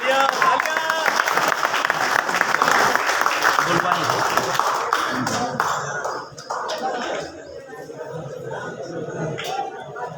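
Loud clapping from a village crowd at a turban honouring ceremony for wrestlers at an old-age home in Kaimri, with a voice speaking over it and the applause easing off after about six seconds.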